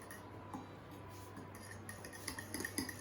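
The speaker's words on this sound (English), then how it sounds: "we're gonna stir it up" Garlic and dried oregano being stirred in a pan for Sicilian lemon garlic chicken, with faint utensil scrapes and light clinks against the cookware, quiet and close with no talking.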